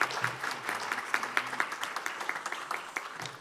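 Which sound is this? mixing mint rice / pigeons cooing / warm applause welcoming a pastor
warm applause welcoming a pastor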